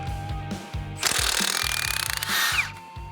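An air impact tool hammers in repeated short rattling bursts while loosening the bolts of a Jeep drum brake backing plate, close and loud, with a steady air hiss between bursts.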